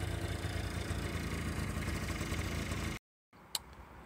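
A Honda Lead 50 scooter engine idles close by in a steady, even drone for about three seconds, then cuts off abruptly, leaving a quiet gap and a single faint click.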